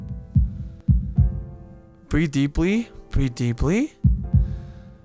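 Heartbeat sound effect from the visual novel Katawa Shoujo, a slow pair of low thumps repeating, pausing while a voice speaks in the middle, then resuming with two more beats.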